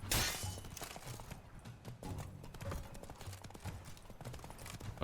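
Horse hooves galloping in The Witcher 3 video game: a fast, continuous clip-clop of hoofbeats at a steady rhythm, fairly loud and close, with some game noise mixed in.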